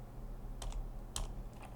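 A few quick taps on a computer keyboard while typing, two short clustered bursts of clicks over a steady low hum, near and soft, with no one speaking.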